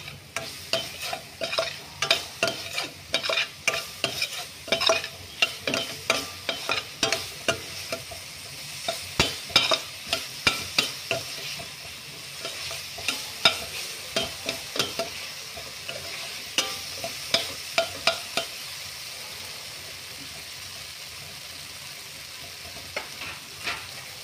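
A spoon stirs tomatoes and salt frying in a pan, with rhythmic scraping strokes over a steady, close sizzle that runs throughout and no voices.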